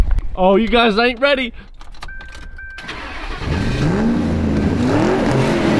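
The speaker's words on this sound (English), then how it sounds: "They need to hear the V8 engine" A person speaks, then keys jingle, a limousine's V8 engine cranks and fires up into a loud, rising rev that carries to the end.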